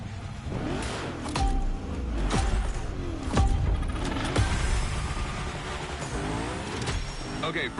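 Car engine in The Crew Motorfest revving hard during gymkhana slides, with repeated sharp rises and drops in pitch and thumping impacts, loud and continuous.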